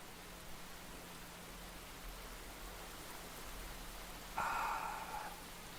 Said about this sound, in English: But we will listen to the sound of the rain.